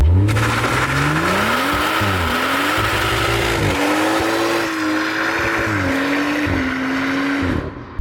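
A BMW M140i engine in Sport Plus mode drones steadily throughout, its pitch rising and falling with gentle throttle changes while cruising, loud and close from inside the car, before cutting off at the end.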